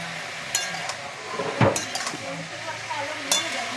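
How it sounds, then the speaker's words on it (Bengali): Potatoes and cauliflower fry in a pan with a low continuous sizzle, broken by a few sharp clinks and scrapes of a utensil stirring against the metal, close and fairly quiet. "তাই আর কি আলু ফুলকপিটা একটু ভাজবো।"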